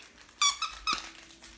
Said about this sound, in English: two squeaky toys and Ruffles.